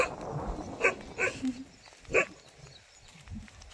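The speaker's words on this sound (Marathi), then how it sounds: "कुत्रे लागलं भोकायला" A few sharp dog barks, spaced irregularly and moderately distant, over quiet outdoor background.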